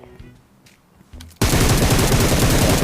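Automatic gunfire in PUBG Mobile bursts in loud and sustained after a quiet stretch of faint game noise, a rapid, rattling stream of shots continuing to the end.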